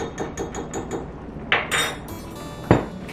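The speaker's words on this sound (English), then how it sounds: "I'm just whisking that together" Milk and a tablespoon of tapioca flour being whisked together in a bowl, giving quick rhythmic clinks of the whisk against the sides, followed by a couple of louder, sharper knocks near the end.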